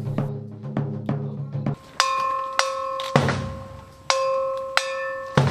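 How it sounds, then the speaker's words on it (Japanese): A bell struck repeatedly during a shrine procession in the mountains of Niyodogawa, Kochi, Japan, ringing out in sharp metallic strikes with sustained ringing tones, a few quicker muffled hits first and then louder strikes every second or so. "そして鐘を打ち鳴らしながら安徳天皇御陵へと向かいます。"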